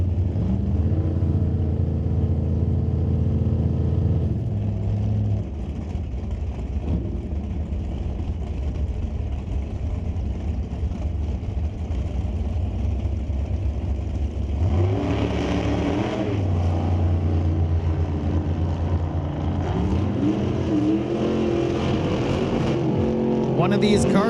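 Drag racing cars, including a 1963 Corvette in the Super Gas class, launching at an NHRA divisional eliminations event: a loud sustained engine roar with a surge midway as cars pull away, and a commentator talking over it.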